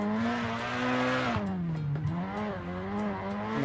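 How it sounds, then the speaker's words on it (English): A black Mazda Miata drift car at a drift league qualifying run holds a steady, strained engine note, then its tires squeal loudly as it flicks into the zone, with the revs dipping and climbing. "Here comes Jack in the black Miata, coming into the first zone here."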